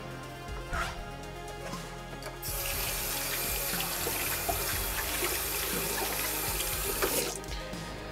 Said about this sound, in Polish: zanim kapłan zacznie ubierać szaty liturgiczne, obmywa sobie ręce